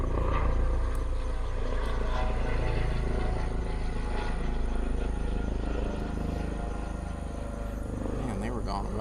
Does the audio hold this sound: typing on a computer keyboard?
no